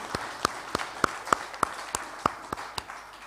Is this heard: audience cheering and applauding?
yes